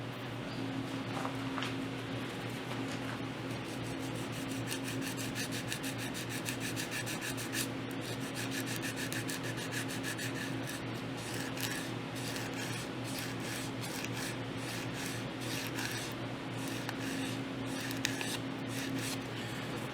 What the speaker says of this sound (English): I'll just move on to hand sanding the front ends of these